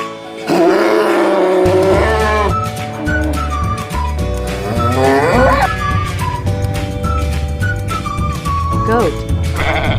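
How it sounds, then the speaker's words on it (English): A cow lets out a long, loud, drawn-out moo over a bouncy music backing, with further low calls rising and falling through the rest of the stretch. "Cow."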